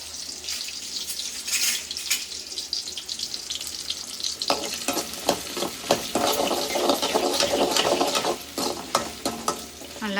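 Small onions sautéing in a pan with salt: a dense, close sizzle broken by repeated clacking and scraping stir strokes, which grow busier and louder in the second half.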